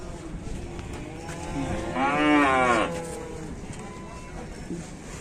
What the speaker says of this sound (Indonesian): Nah, adanya sapi-sapi blonteng.